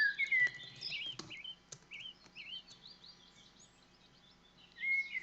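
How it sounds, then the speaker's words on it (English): Small birds chirp and warble in bursts at moderate distance, with scattered tweets and short trills over a faint, steady background hum; no one speaks. "Just listen to the sounds, focus on the nice birds."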